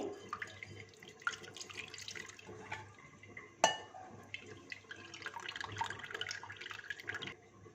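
Water is poured from a pan over tamarind pulp in a kitchen while cooking street-style chaat, a soft trickling splash that swells and fades, with light clinks of utensils.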